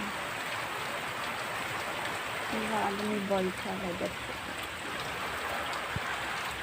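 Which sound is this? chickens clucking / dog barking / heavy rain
heavy rain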